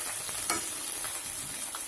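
Onions stir-fried in a wok over a high flame for chow mein, a soft continuous sizzle broken by a few scraping stirs of a spoon, close and moderately quiet.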